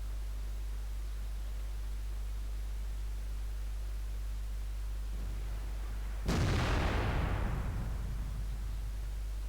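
A single heavy cannon blast from an IS-7 tank in World of Tanks bursts out sharply after a steady low hum, its loud boom then decaying over a few seconds.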